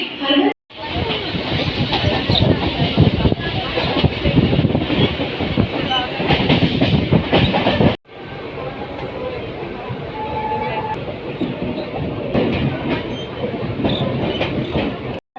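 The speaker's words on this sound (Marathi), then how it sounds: "आता आपली ट्रेन आलेली आहे।" A Mumbai local train pulls into a platform near Thane, with a loud, continuous rumble and rattle of carriages and wheels close by, a brief break midway, and people talking over it.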